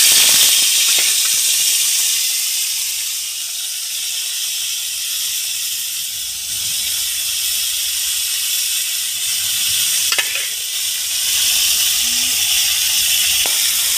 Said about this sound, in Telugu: అదే కళాయి నీట్గా కడిగేసుకొని అందులో 2 స్పూన్లు ఆయిల్ పోసేసుకొని మనం తీసి పెట్టుకున్న ఈ క్యాలీఫ్లవర్ ముక్కల్ని అందులో వేసి